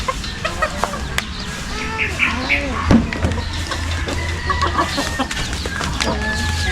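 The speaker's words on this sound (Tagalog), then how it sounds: "Namiss ko kayo mga manok ko." Backyard chickens clucking and murmuring close by in a steady, busy chorus, with a sharper squawk about midway and occasional distant rooster-like calls over a constant low outdoor hum.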